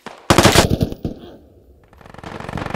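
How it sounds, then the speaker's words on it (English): Gunfire in an online shooter game, a sharp rapid burst of automatic shots followed by a couple of trailing reports and a fading, busy background. "Shots."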